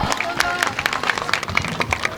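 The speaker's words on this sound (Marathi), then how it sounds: "त्याला टाळ्या वाजवा की जमा" Spectators clapping at an outdoor kusti wrestling bout, a series of sharp hand claps in a loose rhythm with crowd noise and faint voices underneath.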